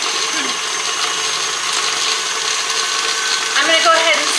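An electric mixer whirs steadily through sugar cookie dough, a loud, continuous mechanical hum with slight rattling, while a person talks over it.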